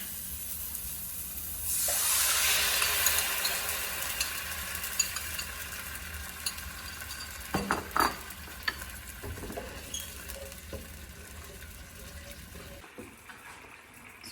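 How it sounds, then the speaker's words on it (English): A sauce for Chinese dragon stuffed eggplant hits a hot pan with a sudden loud, steady hiss from about two seconds in, fading slowly, with clinks of stirring around the eighth second. "now I'm gonna put the sauce in there."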